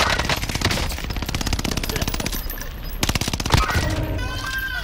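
Rapid automatic gunfire in Call of Duty Warzone on Rebirth Island, loud and sustained bursts of shots with brief pauses, a fast rattling rhythm filling the scene.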